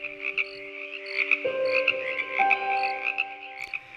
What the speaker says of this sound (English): This is a common toad.